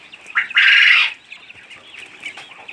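A close, loud drawn-out squawk from a caged quail, followed by softer clucking and chattering calls from other quails in the background.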